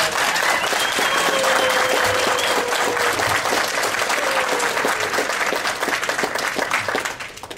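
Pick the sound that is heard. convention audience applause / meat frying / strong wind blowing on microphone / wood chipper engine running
convention audience applause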